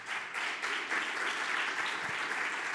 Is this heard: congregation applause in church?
yes